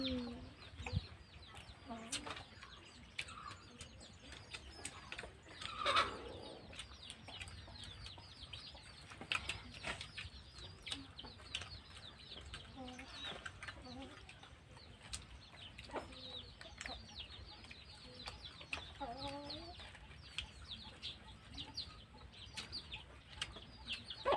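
Chickens cluck intermittently in short bursts at moderate distance, with scattered background noise and occasional faint voices.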